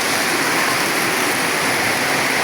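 Heavy rain in Bashundhara falls as a steady, loud, broadband rush close by, unbroken for the whole moment with no voices over it.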